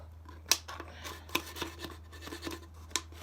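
Scissors cut out part of a plastic bottle to make a crawfish trap, several sharp snipping crunches at uneven intervals over a low steady hum, close and fairly quiet with no talking.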